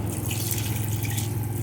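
Water pouring from a glass into a pan of turnip and pea curry in a home kitchen, a steady continuous splashing stream with no pauses, close and fairly loud throughout.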